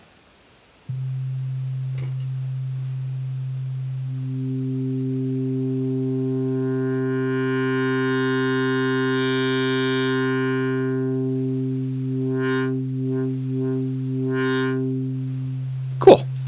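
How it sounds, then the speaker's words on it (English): A synthesizer's pure sine tones start as a steady low drone, then the filter opens and gains bright upper harmonics until they sound like buzzing saw waves. Short pitched blips come near the end, and there is no talking. "I'm going to bring this filter control up, which should start to morph these sine waves into saw waves."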